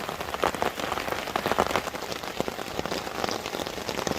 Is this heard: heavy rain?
yes